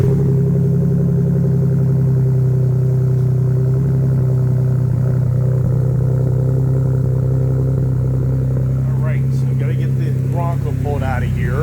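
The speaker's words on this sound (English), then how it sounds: "Here's the exhaust note" Ford Bronco pulling out with a steady low exhaust rumble, the engine note holding deep and even before rising slightly as it moves off.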